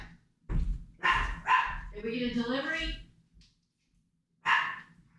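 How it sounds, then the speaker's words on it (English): A dog gives a few sharp barks and a drawn-out whine nearby, and a person speaks briefly between the barks. "are you just barking at the neighbors?"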